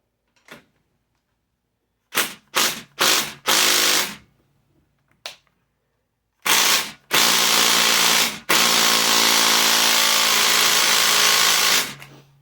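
A pneumatic impact wrench works on bolts of a carbureted Blackbird engine, with a few short hammering bursts followed by two longer sustained rattling runs, close and loud with quiet gaps between.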